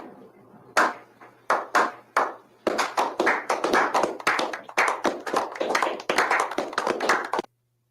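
A single person claps at a slow, uneven pace: a few spaced sharp claps first, then a steadier run of close, dry claps before it stops abruptly, nearby and alone with no talking.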